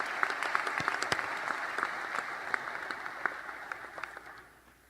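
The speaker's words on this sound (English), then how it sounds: "Will you all join me in a round of applause to appreciate our great faculty and staff?" Commencement audience applauding faculty and staff at a fall graduation ceremony: a fairly faint, steady patter of many hands clapping with a few sharper close claps, fading out near the end.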